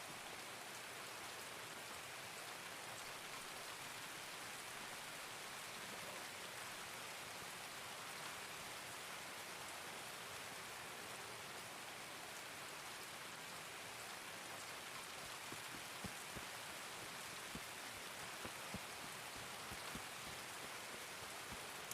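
Steady rain in the video game Escape from Tarkov, a dense even hiss of falling drops that continues unbroken and alone at moderate level throughout.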